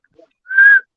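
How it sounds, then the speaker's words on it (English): A single short, clear whistle tone made through a person's nose, steady in pitch and close, lasting about a third of a second after near silence. "He can whistle through his nose."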